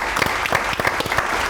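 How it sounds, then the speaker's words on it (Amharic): A studio audience claps together for a contestant on a talent show, with dense, loud, continuous clapping close by for the whole moment. "በከባድ ጭብጨባ እናጅባት"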